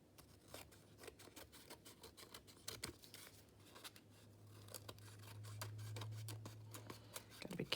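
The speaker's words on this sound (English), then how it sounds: "And I just go and trim it off with the scissors." Scissors snip repeatedly up close in quick, uneven cuts, trimming the edge of a covered loot bag for a junk journal craft, with soft rustling of the bag between cuts.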